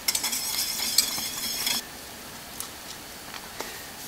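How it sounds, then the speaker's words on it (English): A thick roux-based gravy boils in a pan while being stirred, giving a brief bright sizzle and bubbling with a few utensil scrapes, then falling quiet apart from faint clinks. "We want to boil this sauce."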